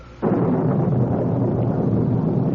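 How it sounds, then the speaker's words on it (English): Thunder from an old radio drama booms in abruptly after a quiet start, a loud sustained rumble that rolls on steadily to the end with no voices over it. "Is that thunder?"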